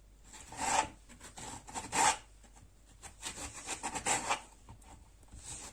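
A knife slices through lemons and oranges with a few rasping cuts of varying strength, close up and quiet between strokes.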